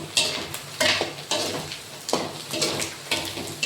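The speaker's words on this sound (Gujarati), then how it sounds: "આપણે ભૂંગળા તળવાનું ચાલુ કરી દીધું છે" Bhungla fryums fry in hot oil with loud bursts of sizzling, each surge swelling then fading roughly every half second to second, mixed with scraping and clinks of a utensil stirring in the pan, close up and with no talking.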